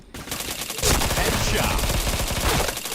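Rapid automatic gunfire in a video game crackles in dense, close bursts, loud and continuous with a sharper surge midway and no talk over it.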